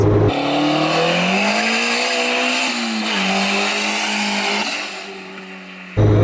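A boosted 1995 Honda Civic coupe with a swapped B20B engine accelerates hard, its loud sustained engine note climbing steadily in pitch as boost builds, then easing off briefly before a sharp cutoff at the end.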